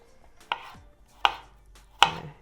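Three crisp knife chops through ginger on a cutting board, spaced evenly about three-quarters of a second apart, close and fairly quiet, with no voices.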